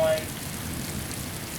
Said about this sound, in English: Really heavy rain. Right now it's pounding here in Three Rivers.